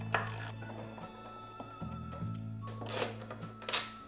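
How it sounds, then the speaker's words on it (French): A screwdriver backs out screws from the drying duct cover of a washer-dryer, making small metallic ratcheting clicks and scrapes over a steady low machine hum, close and fairly quiet, with no speech. "Maintenant que les vis sont enlevées,"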